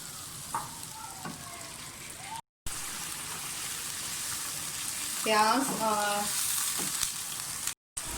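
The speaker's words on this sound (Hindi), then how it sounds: "प्याज और हरी मिर्चों का पेस्ट अच्छी तरह से भून के ऑयल ऊपर आना शुरू हो गया" Onion and green chili paste frying in oil in a pan gives a steady, close hiss and crackle that continues through the clip, with a voice speaking briefly over it.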